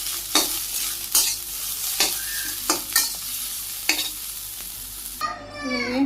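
Leafy greens stir-fry in a pan with a soft sizzle, as a spatula scrapes now and then at uneven intervals. A brief different clatter comes at the very end, and no one speaks.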